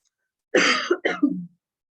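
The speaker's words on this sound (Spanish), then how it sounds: "me agarra de repente mi tos" A man's sudden coughing fit during a psychology lecture: two close, rough coughs, near and fairly loud, in an otherwise quiet room.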